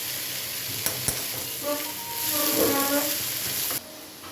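A few ginger pieces sautéing in a pan, a close, even sizzle that swells midway with a couple of sharp utensil taps, then drops off abruptly.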